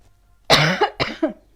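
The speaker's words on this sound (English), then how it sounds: "sorry about my cough is still here" Two sharp, close coughs in quick succession against near silence.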